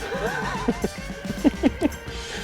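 A horse neighs with a rising, quavering whinny followed by a series of short, choppy snorting bursts, loud and close.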